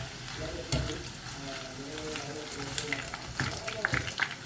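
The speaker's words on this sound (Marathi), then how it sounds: "आतां हांव थोडे थोडे कॉर्नफ्लेक्स घालून न्ही ताका फ्राय करून घेता" Cornflakes frying in hot oil, a faint crackling bubble with occasional clinks and stirring sounds, fairly quiet and close.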